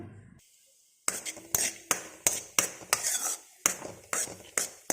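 Raisins fry in hot ghee in a pan while a spoon stirs them: repeated metallic scrapes and clinks at a steady rhythm over a soft sizzle, close up, after a brief quiet start.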